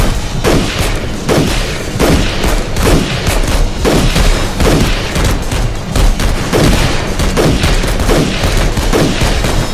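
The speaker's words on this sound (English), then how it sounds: "Keep firing, keep firing." Heavy gunfire in an emergency situation, loud and close, with a dense barrage of overlapping shots and booms that keeps going without a break.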